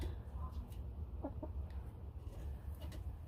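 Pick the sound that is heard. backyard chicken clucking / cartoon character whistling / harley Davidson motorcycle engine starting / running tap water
backyard chicken clucking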